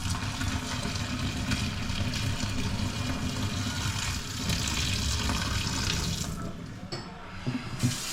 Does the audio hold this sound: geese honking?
no